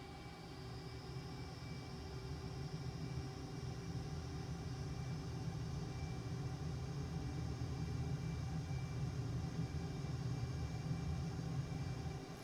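An F-18 fighter jet in a flight simulator game gives a steady, even engine roar and rumble throughout, fairly quiet and constant, with no talking.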